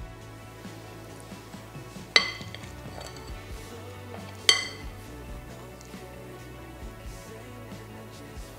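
A metal spoon scrapes and taps while shaping feta, mint and courgette cookie dough. Soft scraping runs under two sharp, close clinks of metal against a bowl or tray, with no talking.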